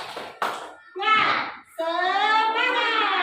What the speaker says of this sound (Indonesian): Begini ya, tepuk semangat.